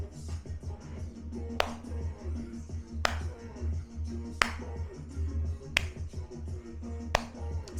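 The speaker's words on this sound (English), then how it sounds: "So we're gonna listen to the song and then we're gonna clap on beat." Sharp hand claps land on the beat of a song during a Gogo dance freestyle lesson, spaced about every second and a half over steady bass-heavy music.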